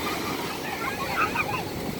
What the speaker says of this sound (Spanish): el mar está demasiado fuerte